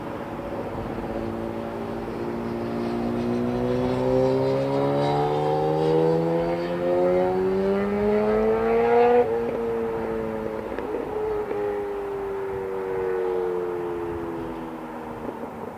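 An Airbus A340-300 airliner at Heathrow Airport produces a steady engine roar with rising and falling whining tones that swell to a peak and then ease off, heard at a distance with no voices.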